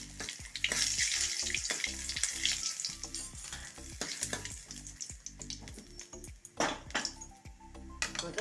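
Dried red chillies, curry leaves and mustard seeds fry in hot oil for a tempering, giving a close, loud, steady sizzle with crackling pops and occasional stirring throughout.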